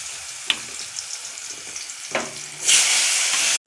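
Koi fish and potatoes fry in hot oil with cumin, sizzling steadily with a few stirring clinks, then the hiss surges loudly near the end.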